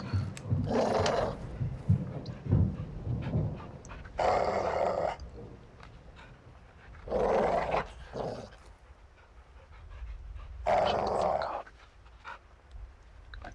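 A caged dog in the video game Modern Warfare II growls and pants in several short, close bursts separated by quieter gaps, with low mechanical background tones.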